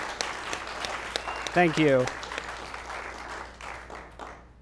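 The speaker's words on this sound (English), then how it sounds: "Please give him a big welcome round of applause." An audience at a film-distribution conference stage session claps in a burst of applause that fades out, while a voice speaks briefly over it.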